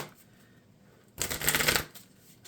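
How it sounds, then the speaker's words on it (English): A deck of game cards for the Marvel Champions card game being shuffled in one brisk, close riffle lasting about half a second, loud against a quiet room with no talking. "And then we'll shuffle the deck."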